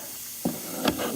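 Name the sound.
carburetor cleaner spray can spraying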